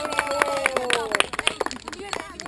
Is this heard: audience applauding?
yes